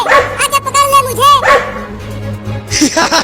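Two dogs bark in quick, loud, close bursts, mixed with yips in a lively home scene with a cat nearby, while voices talk over the barking.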